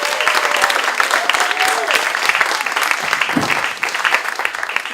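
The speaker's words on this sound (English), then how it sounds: "please, with a big round of applause, can you welcome to the stage," An audience applauds and cheers as a storytelling performer named Amanda McTighe is welcomed to the stage, steady loud clapping with crowd voices and whoops mixed in.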